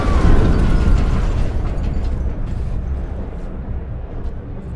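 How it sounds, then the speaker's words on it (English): A loud, deep explosion in the video game Mars: War Logs bursts at once and then rumbles and fades slowly over several seconds, with scattered debris crackling in the tail. "An explosion, but not one of ours."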